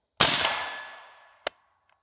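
A shot from a Nikon Black Force X1000 review session strikes a steel target, a sharp ringing crack that fades over about a second, followed by a quick second metallic ping, with no voices.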